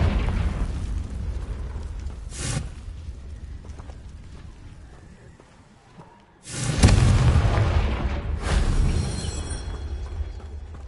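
Confringo fire-spell blasts in Hogwarts Legacy on PS5: two loud booming explosions with sharp bursts, one early and a larger one later, followed by rumbling debris over an ongoing game soundscape.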